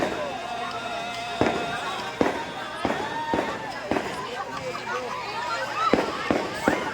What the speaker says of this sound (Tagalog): meron fireworks doon, no?